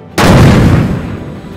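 A BAE Mk45 naval gun fires a single loud, close blast that booms and then rolls away into a fading rumble.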